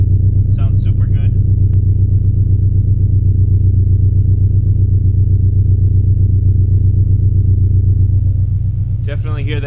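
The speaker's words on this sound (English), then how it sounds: "Definitely hear that boxer rumble to it." A boxer engine idles steadily on a car fitted with a Greddy Revolution RS exhaust, giving a deep, even low rumble close by throughout, with brief bits of talk near the start and end.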